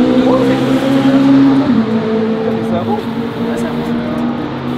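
A Mitjet 1300 race car runs on the Val de Vienne circuit, its engine a steady mid-pitched drone that swells and fades slightly as it goes by, fairly close, under some background noise.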